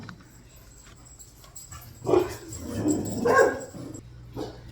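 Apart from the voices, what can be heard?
dogs barking and whimpering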